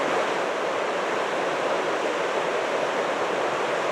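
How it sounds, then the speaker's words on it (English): A river rushing and falling through mountain wilderness gives a steady, dense roar that stays loud and unbroken throughout, with no voices over it. "I'm sure you can hear the river. It really falls through here."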